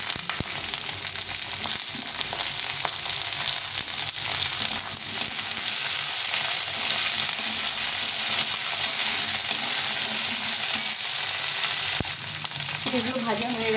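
Capsicum, carrot and beans fry in hot oil, a steady close sizzle that runs throughout with occasional stirring clatter and a brief scrape near the end.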